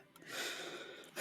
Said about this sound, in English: A deep breath.